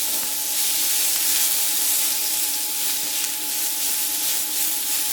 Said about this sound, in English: We're going to cook half cup of sliced up white onions.